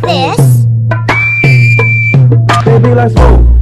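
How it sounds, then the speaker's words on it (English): A person whistles one steady, sustained note with pursed lips for about a second, set against a busy, loud background of music and voices. "What's whistling anyway? You put your lips together and blow."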